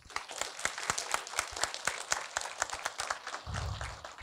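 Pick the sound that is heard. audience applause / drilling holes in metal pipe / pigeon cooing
audience applause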